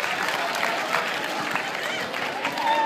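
A school crowd applauding a welcomed guest at an assembly, dense sustained clapping with some cheering, loud and continuous throughout.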